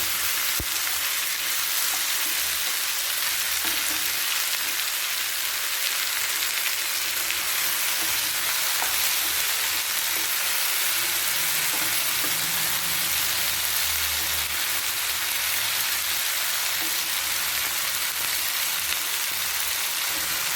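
Vegetables for a mushroom capsicum gravy sizzle in a pan in a continuous hiss, with a few faint stirring clicks, steady and close, no talking.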